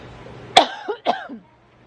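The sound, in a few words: coughing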